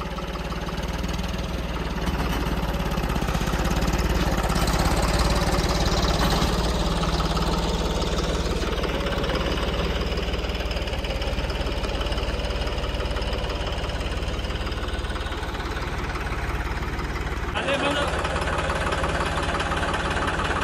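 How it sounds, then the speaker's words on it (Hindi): A John Deere tractor engine runs steadily at idle close by, a loud continuous low rumble with a knocking mechanical throb and vibration, unbroken throughout with only a slight shift in tone near the end and no voices. "ट्रैक्टर चल रहा अपने आप"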